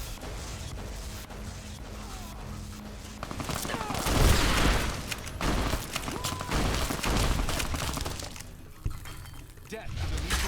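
Gunfire in the video game Fallout: Tale of Two Wastelands, dense overlapping shots and impacts under continuous game noise, with voices mixed in.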